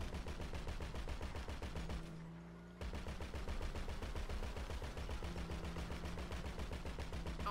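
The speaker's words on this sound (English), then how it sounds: "Wait, was I shooting myself with this?" Rapid, continuous automatic gunfire in GTA V Online rattles steadily throughout, broken by a brief pause near the middle before the shooting resumes at the same pace.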